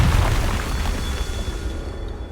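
Confringo spell explosion in the wizarding game Hogwarts Legacy, a heavy booming blast that rolls off into a fading rumble.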